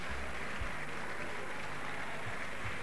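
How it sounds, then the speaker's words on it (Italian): Steady applause from the crowd at an Italian welterweight title boxing bout in Alghero, a dense, even wash of clapping held at moderate distance throughout, with no voices standing out. "viene salutato dagli applausi del pubblico di Alghero"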